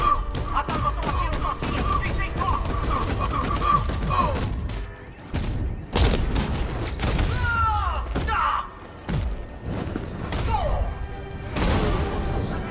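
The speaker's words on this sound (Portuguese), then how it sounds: "tá ali com a arma, atirando em mim" Enemy gunfire in Batman Arkham Knight comes as a string of loud, close shots and heavy thuds in irregular bursts, mixed with impacts and other combat noise.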